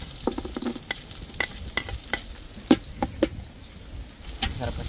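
Ginger frying in a pan during Filipino home cooking, a steady close sizzle broken by sharp scraping knocks of a spatula stirring, at an irregular rhythm.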